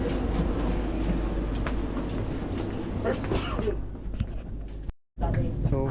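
Inside a Vande Bharat express train running from Cooch Behar to Kamakhya, a steady low rumble and rattle of the coach fills the cabin, cutting out briefly before resuming.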